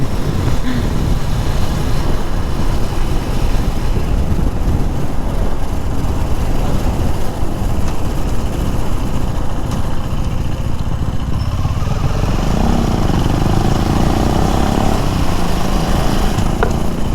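A motorcycle rumbles loudly and steadily on a rough, bumpy road on a hill trip, with constant engine drone and wind buffeting, and the engine note shifts near the end.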